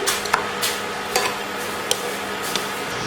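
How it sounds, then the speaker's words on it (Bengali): Semolina paratha frying in a pan while being pressed down, a low steady sizzle broken by scattered soft scraping and tapping of a spatula against the pan, about five distinct touches. "এভাবে চেপে চেপে ভেজে নিতে হবে কিছুক্ষণ"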